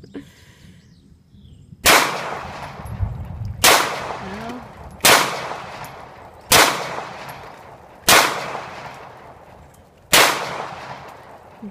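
A Beretta 92FS pistol fires six sharp, loud shots outdoors at a slow, uneven pace, each crack followed by a short decaying echo.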